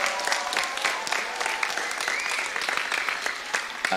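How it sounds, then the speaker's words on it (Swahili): Conference audience at a Christian finance talk breaks into steady, moderately loud applause, with a few claps standing out near the end. "Wapigeni makofi."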